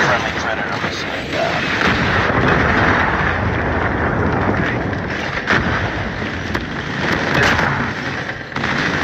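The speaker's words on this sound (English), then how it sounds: "Friendly Predator missile inbound." Predator missile strike in the video game Call of Duty Mobile: a dense, loud barrage of booming explosions and gunfire rumbling continuously throughout, with possible faint game voices underneath.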